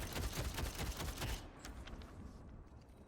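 Rapid gunfire in the Deadlock shooter game, a dense stream of shots for about a second and a half, then sparser, quieter shots and game effects trailing off.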